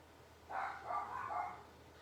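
Several quick barks from a dog run together in one brief burst, fairly close, against a quiet background.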